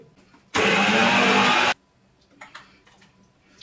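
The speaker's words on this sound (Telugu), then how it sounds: "దీంట్లో వాటర్ ఏమీ పోయకుండా కొంచెం బరకగా గ్రైండ్ చేసుకోండి" A mixer grinder coarsely grinds ginger and shallots with no water, a loud dense whirring burst running a little over a second, then stopping abruptly, followed by faint clicks and rattles.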